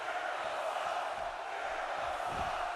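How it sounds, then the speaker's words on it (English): A wrestling arena crowd in the WWE 2K18 video game chants steadily during a Jericho versus Omega match, a distant, even murmur of voices with no break. "For those chanting Jericho, you can also hear a few Jericho sucks chants"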